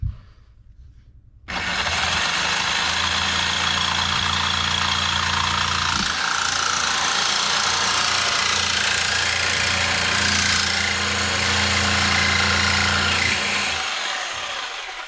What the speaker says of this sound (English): it could be that my saw blade is just completely dull, but I've got it on low